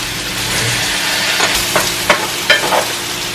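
Minced garlic, about a tablespoon, sizzles steadily in a pan for a vegan keto dish while a utensil stirs it, with a few scraping strokes near the end; no one speaks.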